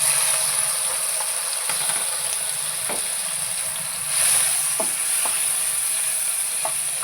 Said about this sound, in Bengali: এবার তেলটা গরম হয়ে গেছে, এর মধ্যে চিংড়ি মাছটা ভেজে নেব।